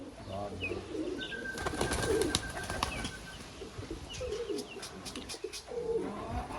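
Pigeons coo softly amid wing flaps and scattered clicks, with a low steady background rumble throughout.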